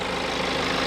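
A BMW twin-turbo engine idles steadily with a low, even rumble and slight vibration, heard close up without any voices over it.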